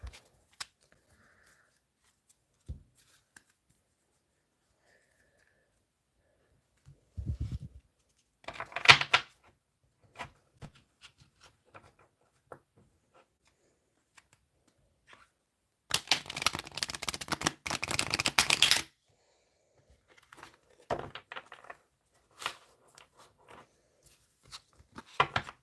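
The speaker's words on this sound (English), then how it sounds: "one more shuffle" Tarot cards shuffled by hand at close range in two dense, papery bursts, a short one and then a longer riffle lasting a few seconds, separated by quiet stretches with faint handling taps.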